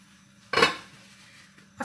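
A big cooking pot clanks once sharply against metal, a loud close metallic knock that rings briefly, followed by a second softer clink near the end.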